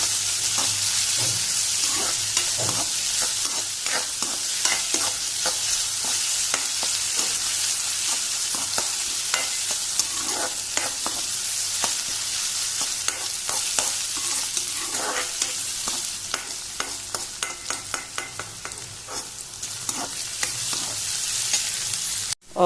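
Onions fry in a pan on a medium flame for Goan valpapdi bhaji, a dense, continuous loud sizzle with frequent crackles and spoon scrapes from stirring, close up and without talk.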